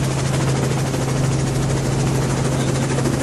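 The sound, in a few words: helicopter flying overhead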